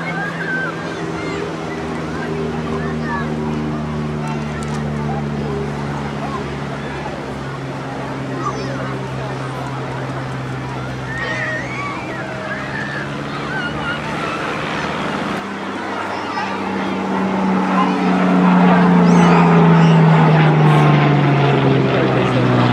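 A Pitts Special aerobatic biplane with a 180-horsepower engine drones steadily at an airshow, its propeller tone shifting in pitch and swelling louder near the end over continuous crowd and wind noise.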